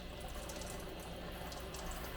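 Warm shower water runs steadily for a dog's bath, a continuous soft hiss and patter that stays fairly faint and unbroken, with no talking.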